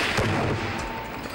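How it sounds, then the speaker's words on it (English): A gunshot fired at a pressurized high-voltage circuit breaker in a test setting, heard as a loud, sustained broadband blast with a booming low end that rumbles on and slowly decays. "a gunshot was fired at the pressurized circuit breaker"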